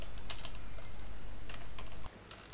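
Code being typed on a computer keyboard for a used-car price prediction model in scikit-learn: close, irregular bursts of key clicks that then stop, with no voices.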